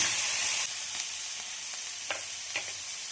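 Capsicum sautéing in oil with chilli powder, a fairly quiet, steady sizzle with a few soft stirring clicks, louder during the first half-second and then settling to a low, even hiss.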